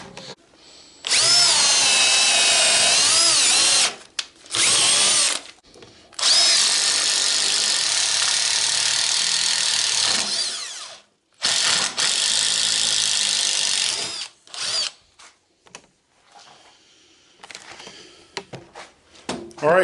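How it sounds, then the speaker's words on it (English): Drill and impact driver boring into wood with a half-inch auger bit, several long, loud, close bursts of high-pitched motor whine with strained pitch wobble, separated by short pauses and ending in brief clicks and taps. "on the auger bit, the impact gun really didn't want to drill it at all"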